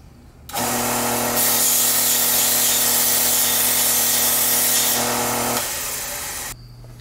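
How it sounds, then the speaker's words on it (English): Steady whirring of a power tool deburring a metal part of a linear actuator extension, a loud continuous drone for several seconds with a brief higher grinding stretch in the middle. "Need to take the burr off."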